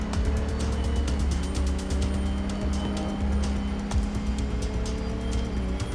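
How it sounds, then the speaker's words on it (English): An electric car in the video game Mindseye gives off a steady, loud combustion-style engine hum that drones on without a break, with no talk over it. "why does every car also sound like a modern combustion vehicle?"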